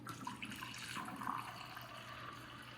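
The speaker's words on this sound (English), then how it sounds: "And now this one you're filling with the RO water" Reverse osmosis filtered water runs from a sink faucet into a glass, a quiet steady stream with a soft splashing texture, faint and close, with no talking.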